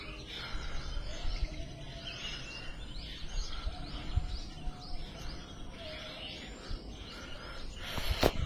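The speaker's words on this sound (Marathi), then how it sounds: "मस्त पक्ष्यांचा आवाज येतोय" Faint morning bird chirps scattered over a steady outdoor hiss on a terrace, with a few brief higher calls standing out near the end.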